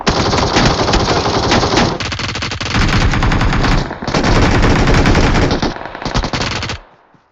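Sustained automatic gunfire in PUBG Mobile during a duo squad match, loud continuous bursts with brief gaps, ending abruptly near the end with no talk over it.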